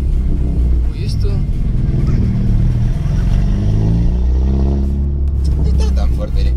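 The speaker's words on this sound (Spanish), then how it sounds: "No está tan fuerte el escape." A car engine revving through its exhaust, with a loud, low rumble that rises and falls close by while people talk over it.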